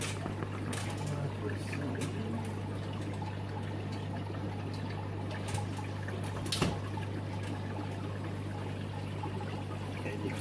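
Water bubbles and trickles steadily in an aquarium tank holding plecos, a faint, even fizzing and gurgling close by with no voices over it.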